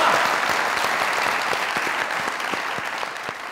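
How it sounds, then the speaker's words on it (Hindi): An audience at a celebration honouring cricketer Mohammad Yousuf claps steadily, with distinct individual hand claps standing out over a close, even wash of applause that slowly eases. "तालियां।"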